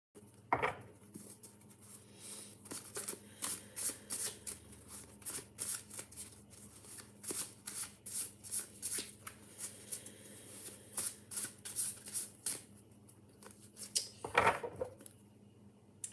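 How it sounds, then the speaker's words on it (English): A tarot card deck shuffled by hand, with repeated riffling bursts in an even rhythm, close and fairly quiet, and a couple of louder taps and clacks near the start and end. "I've been shuffling this tarot deck"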